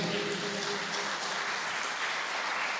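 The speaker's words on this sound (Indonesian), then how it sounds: "Tepuk tangan dong untuk Kristus." A church congregation claps during a Pentecostal worship service, a broad continuous wash of applause at moderate level, with a faint sustained tone underneath.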